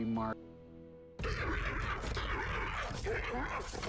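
A dog growls and snarls in harsh, raspy bursts right at the start, then loud overlapping chatter and laughter take over, with the dog's noises mixed beneath.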